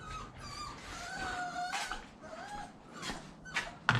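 A young puppy whimpers and yips in a series of high whining cries, close by and fairly faint, with a sharp clatter at the end.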